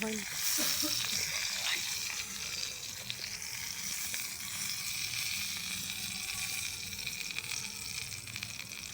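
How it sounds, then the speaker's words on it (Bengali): Eggplant frying in hot oil gives a continuous close sizzle, with a few spatula scrapes near the start. "এই যে আমি এখন বেগুনটা ভাজছি"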